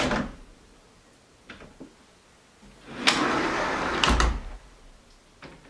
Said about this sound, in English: when you push them open it's going to close soft each way